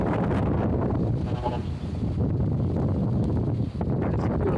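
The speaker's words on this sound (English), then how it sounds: "It's very windy here." Strong wind buffets the microphone at a high vantage point over the old Manila skyline and a golf course just before rain, a steady low roar with gusty swells and no clear talk.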